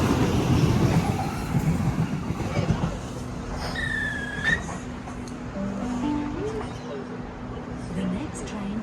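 A train at Flemington station rumbles past close by for a few seconds, then gives way to a steady electric hum and a brief rising whine amid platform ambience.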